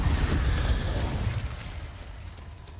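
An Incendio fire spell cast in a video game, a loud fiery burst that roars at onset, then fades over a couple of seconds.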